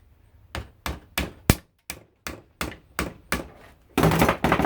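A screwdriver is forced into the plastic of a female plug end, giving a series of about nine sharp knocking impacts at a steady beat, then a louder burst of cracking and scraping near the end.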